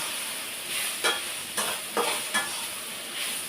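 Tempering spices frying in hot oil for a dal with ivy gourd, with a steady sizzle and hiss throughout and several close stirring scrapes at irregular intervals, no voices.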